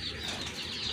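A pair of red Desi Bombai pigeons flap their wings nearby, a brief, dense burst of feathery fluttering that stays loud throughout.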